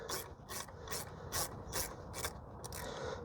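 Half-inch ratchet being worked on a Jeep Wrangler JK brake caliper bolt, a series of sharp, quiet clicking bursts in an uneven rhythm, about eight strokes, with no talk.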